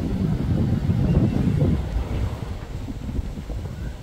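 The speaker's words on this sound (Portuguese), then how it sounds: "olha esse vento" Strong wind gusting outdoors, a loud roaring rumble buffeting the microphone, heaviest at the start and easing slightly but persisting throughout, with no voices.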